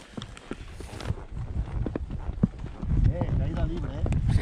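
Arabian horse hooves clip-clop at a walking pace on a trail amid outdoor bustle, with people talking over them throughout.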